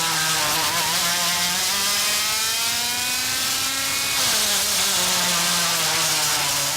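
A big field of KZ2 shifter racing karts screams around a track at the CIK Trophy of New Zealand, with continuous high-pitched two-stroke engine whine rising and falling in pitch as the karts accelerate and shift, loud and close throughout.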